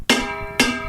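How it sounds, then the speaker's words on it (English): Two sharp metallic taps from a screwdriver handle, ringing briefly like a bell, about half a second apart and close by. "Try the handle of the screwdriver."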